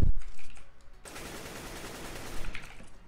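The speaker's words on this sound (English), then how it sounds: "I shoot a full ammo." Sustained automatic gunfire from a full-magazine burst in Counter-Strike: Global Offensive, a dense, continuous rattle of rapid shots lasting about three seconds, loud and close with no talking.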